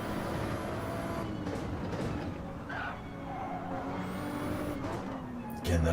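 A race car lifts off the throttle on the Nürburgring Nordschleife during a three-lap race, its steady engine drone easing and dipping before swelling again, with a sharp burst near the end.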